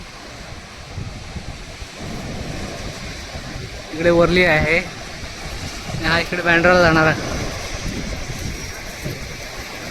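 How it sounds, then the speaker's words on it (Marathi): Rough sea waves break and roar against the shore near Worli Fort in Mumbai, a steady, broad wash with wind buffeting the microphone, while someone speaks in two short bursts over it. "हा समुद्राला किती लाटा आलेत बघा तुफान"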